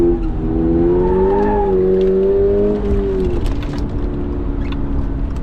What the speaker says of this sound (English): Use the brakes, get the car to rotate, come in, pitch the car in.